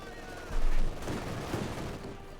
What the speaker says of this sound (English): tearing into it with its autocannon and coaxial machine gun here